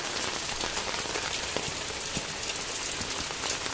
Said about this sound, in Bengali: ছাতার আওয়াজ শুনে তোমরা বুঝতেই পারছো